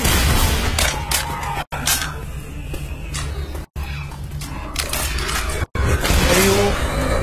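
Pistol gunfire in a shooter video game: rapid, dense volleys of shots and booms fill the mix almost continuously, loud and close, broken only by a few brief silent gaps.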